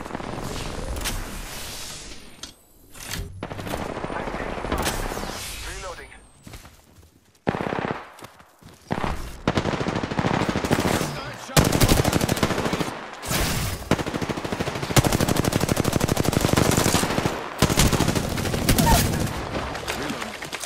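Automatic weapon fire in the video game Apex Legends, long rattling bursts of machine-gun shots repeating loud and close across the whole stretch, broken by brief pauses and reload gaps, with a voice now and then underneath.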